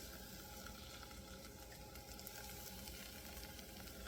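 Onions sautéing in a pan, a soft, steady crackling sizzle that continues evenly and fairly faintly throughout, with no voices.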